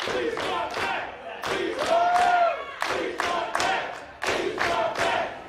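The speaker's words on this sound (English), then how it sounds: "This Worcester crowd showing their appreciation." Crowd at a live independent wrestling show in Worcester chanting in rhythmic bursts, loud regular pulses of voices and stomps repeating about every half second across the hall.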